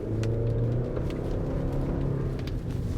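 A 2023 GMC Canyon pickup's 2.7-litre turbo four-cylinder engine rumbles and revs nearby, a low throaty drone with a slight rise in pitch partway through.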